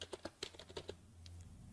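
Keys clatter on a computer keyboard while a program file name is entered in a code editor, a short quiet burst of about eight distinct taps followed by a soft pause.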